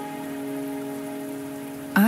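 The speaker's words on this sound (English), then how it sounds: "Are you trapped here by the rain?" Steady rain falls in the video game Wuthering Waves, a continuous even patter with a faint tonal hum beneath, ending in a sudden brighter burst of game sound.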